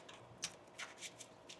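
Tarot cards being shuffled by hand, with a few quiet, crisp riffling bursts spaced irregularly, soft and close with no talking.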